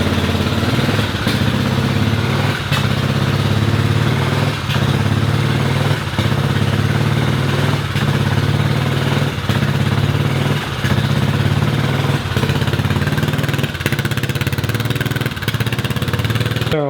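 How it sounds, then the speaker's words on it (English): A Kymco scooter engine idles unevenly, close and loud, with regular pulsing surges as the idle rises and falls, and a hardwired cooling fan running along with it. "Now there is the idle problem. It kind of goes up and down"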